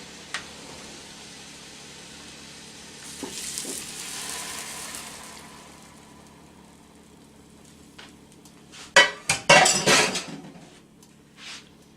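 Broth pours into a hot pan with a rising sizzle, followed by sharp clinks and clatter of cookware and utensils nearby.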